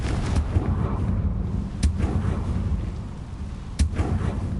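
Confringo, an explosive fire spell, cast in the Hogwarts Legacy video game: a low booming rumble with two sharp blasts about two seconds apart, loud and close, with no voices.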